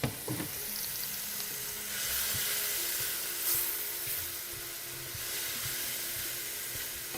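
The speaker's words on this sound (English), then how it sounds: "I hope you can hear the sizzling." Steady sizzling of meat frying in a hot pan, a continuous crackling hiss with occasional louder pops, no voices.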